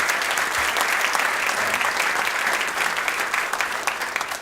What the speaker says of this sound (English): Another round of applause for Chairman Maccaro